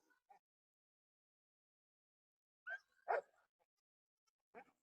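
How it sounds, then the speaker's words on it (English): Young goats on an Appalachian farm give a few short, sparse bleats, quiet and spaced apart with silence between calls. "There's our younger goats."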